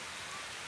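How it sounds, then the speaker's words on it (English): Steady rain falling outdoors, a dense even hiss of drops filling the whole moment with no voices. "We're gonna go out there in the rain."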